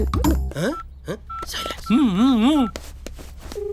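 A short run of telephone keypad tones beeps between bursts of voice, with a wavering warbling tone in the middle.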